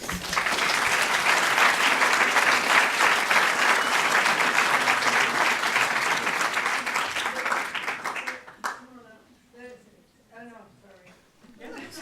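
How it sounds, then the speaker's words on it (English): An audience in a hall breaks into loud, sustained applause for about eight seconds, then the clapping fades out and a person begins speaking. "I applaud her the way you all do"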